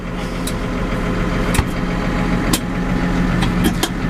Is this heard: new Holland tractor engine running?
yes